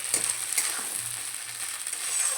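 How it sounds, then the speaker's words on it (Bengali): Ginger, garlic and chopped tomato sauté in a pan for a fish-head curry, with a steady close sizzle and faint stirring scrapes. "আদা রসুন আর টমেটোটা দিয়েও ভালো করে একটু কষিয়ে নেব যাতে আদা রসুনের কাঁচা গন্ধ না থাকে"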